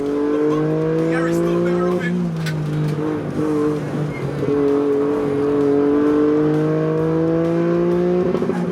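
A Toyota Yaris, GR86 and Supra race on track with engines droning loud and steady, revs rising and shifting with gear changes, the sustained multi-car roar close and continuous throughout.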